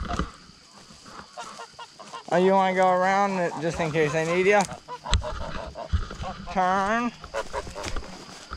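Domestic geese raised by a teen honk loudly in a rising, wavering run, then again in a shorter burst, close by, while a person talks to them between calls.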